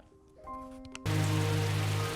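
Heavy nighttime rain in a Japanese film scene, a dense steady wash that cuts in abruptly after a quiet opening of soft tonal hum, then holds loud and close to the end.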